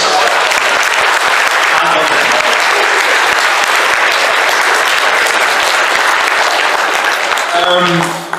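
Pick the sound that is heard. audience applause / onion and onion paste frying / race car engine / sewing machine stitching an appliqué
audience applause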